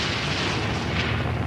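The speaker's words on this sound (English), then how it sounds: "there was a huge explosion" A huge explosion on the starboard side of the ship Britannic: a loud, dull, deafening roar that rumbles on steadily without a break, with no voices over it.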